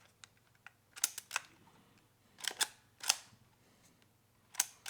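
Small mechanical clicks and snaps from opening the back of a Voigtlander Vitessa L film camera, several quiet close clicks in irregular bursts over a faint hum.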